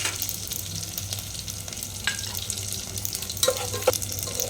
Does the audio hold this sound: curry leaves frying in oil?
yes